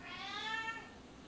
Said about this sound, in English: And that's the cat waking up.